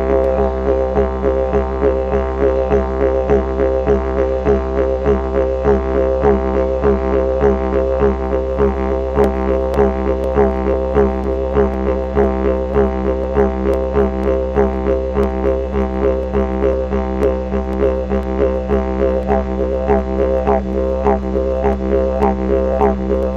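Didgeridoo drone sustained with simple circular breathing, a steady low buzzing tone pulsed by an even, repeating breath rhythm; loud, close and unbroken for the whole stretch with no voices.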